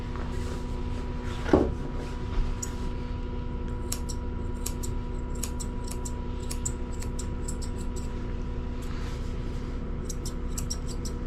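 Scissors snip repeatedly in short, quick bursts close by, trimming a dog's fur, with a steady low hum in the background.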